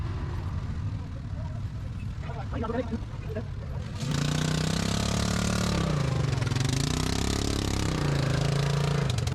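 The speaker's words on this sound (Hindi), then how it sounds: "हमने डिसाइड किया कि एटीवी राइड करके क्लीन स्नो पॉइंट तक जाएंगे" ATV engine running loud and steady on a snowy mountain road near Atal Tunnel, starting up partway and holding a close, droning hum with shifts in pitch as it revs.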